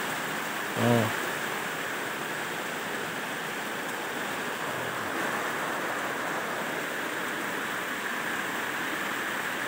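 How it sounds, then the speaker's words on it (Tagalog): Dense, steady hiss of heavy rain pours continuously throughout, with a brief exclaimed voice near the start. "Oh, ang lakas ng ulan."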